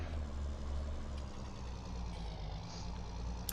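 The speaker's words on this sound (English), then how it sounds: "that's the annex tractor here revving off in the distance there" Farming Simulator 19 tractor engine, a steady low droning rumble held at a constant pitch and heard from a distance, with no talk and a faint click near the end.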